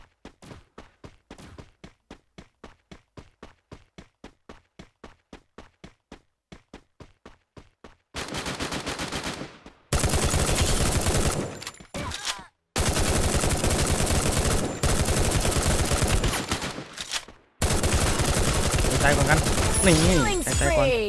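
Gunfire in the mobile battle game Free Fire: a long run of evenly spaced single shots, then dense, loud sustained bursts of automatic fire broken by short pauses.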